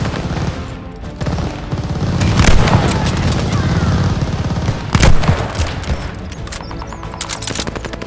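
Dense gunfire bursts and booming explosions from Call of Duty: Vanguard multiplayer ring out loud and continuous, with heavier blasts near the start and middle and a voice heard among the battle noise.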